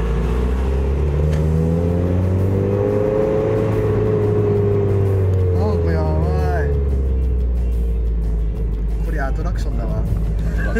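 A Mazda Roadster engine revs hard toward 7000 rpm, a loud continuous drone that climbs and falls in pitch inside the car while people talk over it.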